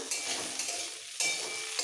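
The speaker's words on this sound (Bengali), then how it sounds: "গ্যাসটা কমিয়ে শিম আলু ভেজে নিতে হবে" Flat beans and potatoes fry in a pan over lowered gas heat, giving a steady close sizzle with brief stirring scrapes, a short lull near the middle, then a renewed burst of frying.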